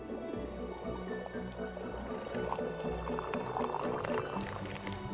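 Water poured to fill a container in the video game Wanderstop, a steady trickling stream rising over a soft looping game music background, moderately quiet.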